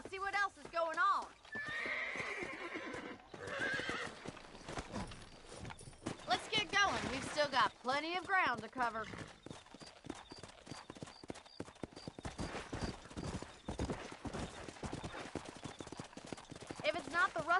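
Horses in the Red Dead Redemption video game clip-clop along at a steady walk and whinny loudly several times, close by, while a character speaks briefly over the hooves and game music.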